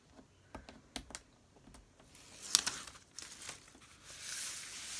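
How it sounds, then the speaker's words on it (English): Tape peels off a junk journal cover in a series of soft crinkling, tearing bursts with light taps, close and fairly quiet, building into a longer rough peel near the end. "Okay, let's take the tape off."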